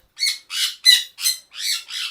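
Sun conure parrots give six loud, harsh squawks in a quick, evenly spaced series, close by and with nothing else heard.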